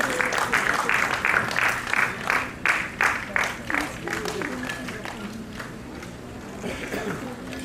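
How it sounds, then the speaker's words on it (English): A conference audience gives a round of applause for a departing speaker, strong clapping in the first few seconds that gradually thins out, with an announcer's voice and murmuring coming through as it dies down. "Give a round of applause for Dr."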